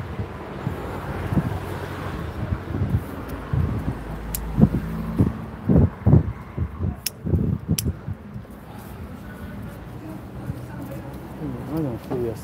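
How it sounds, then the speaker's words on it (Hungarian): Strong wind buffets and rumbles against the microphone in gusts while people talk over it. "Nagyon fúj a szél."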